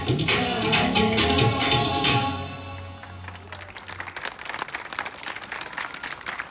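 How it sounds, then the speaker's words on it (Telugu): An audience claps after a devotional tribute song to Lord Venkateshwara at Yadagirigutta. The music fades out and a dense, steady round of applause follows. "మీ చప్పట్లు చెప్తున్నాయి ఈ పాట మీ అందరికి ఎంత నచ్చిందో అని"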